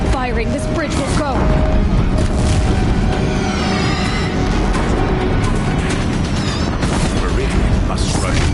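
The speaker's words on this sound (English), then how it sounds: "If the Deathbringers keep firing, this bridge will go." Deathbringer machines fire on a bridge in Horizon Zero Dawn, a dense, steady barrage of booms and mechanical rumble with whirring sweeps throughout, a voice briefly audible under the clamor.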